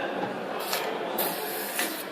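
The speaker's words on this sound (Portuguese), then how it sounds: "um spray fluorescente" A can of fluorescent penetrant is sprayed for a material inspection test, giving a steady, loud hiss that swells in a few brief stronger bursts.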